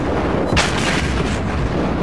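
Naval gunfire striking a ship in World of Warships, a deep booming impact over a constant loud rumble of engine and sea, heard alone.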